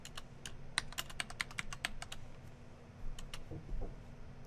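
Computer keyboard keys clatter in quick irregular bursts while Python code is typed, close and fairly quiet with short pauses between runs of keystrokes.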